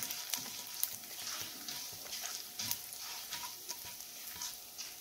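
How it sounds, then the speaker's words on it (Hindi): Fenugreek seeds and a pinch of asafoetida sizzle faintly in a pan, with a constant hiss broken by light spoon scrapes and occasional small ticks as they are stirred. "और 3/4 टेबल स्पून मेथी दाना डालते हैं, 1 पिंच हींग डालेंगे, और इसे अच्छी तरीके से चला लेंगे।"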